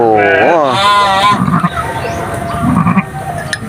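A crossbred ewe with her newborn lamb on a farm, bleating loudly and close with a wavering cry, followed by softer low calls.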